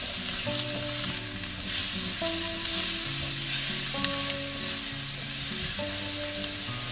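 Onions hit a pan of celery and carrots already sizzling in olive oil, giving a steady close frying hiss with soft stirring scrapes throughout and a faint tonal hum underneath.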